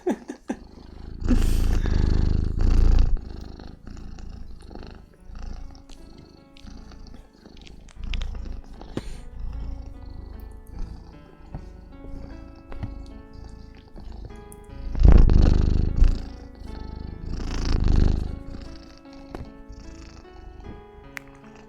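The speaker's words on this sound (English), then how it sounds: "Bass boosted purring." A cat purrs very close to the microphone in a soft, rumbling rhythm that swells into louder, bass-heavy bursts a few times before easing back, with no talking.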